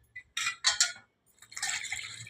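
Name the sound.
washing vegetables and potatoes in water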